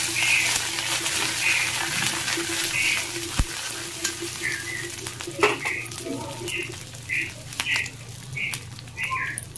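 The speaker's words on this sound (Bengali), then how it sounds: "পেঁয়াজ আর কারি পাতা ভাজা হয়ে গেছে" Curry leaves and onion frying in hot oil, a steady close sizzle with occasional scraping stirs and clinks of the pan, while birds chirp faintly in the background.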